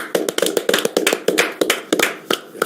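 A studio audience on a Korean live news talk show claps in scattered, sharp, close-up bursts, with individual hand claps clearly separated rather than blending into a roar.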